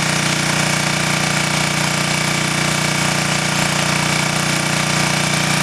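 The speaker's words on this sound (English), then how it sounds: "now the generator is not totally under load." A generator running smoothly while not fully under load gives a steady, continuous engine drone at constant loudness from start to finish, close by, with no talking.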